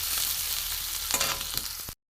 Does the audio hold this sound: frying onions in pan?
yes